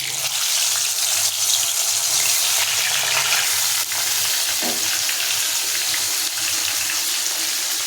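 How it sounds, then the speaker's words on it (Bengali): Pieces of bhola fish rubbed with salt and turmeric fry in hot mustard oil in a kadai, giving a loud, steady, close sizzle that runs without a break and is heard alone. "কড়াইতে সরিষার তেল গরম হয়ে গেছে এবার এবার আমরা দিয়ে দিচ্ছি বোলা মাছের টুকরো"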